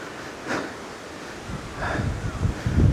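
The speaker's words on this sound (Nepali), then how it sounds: "एकदम हावा चले एकदमै हावा" Strong wind gusts across a microphone beside a waterfall, rumbling low and buffeting in bursts that build and grow louder toward the end, with the rush of falling water beneath.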